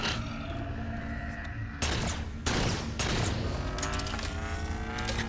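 Defense turrets firing in Halo 4, rapid sustained bursts of heavy gunfire with sharp jumps in intensity as more guns join, loud and continuous over a game soundscape.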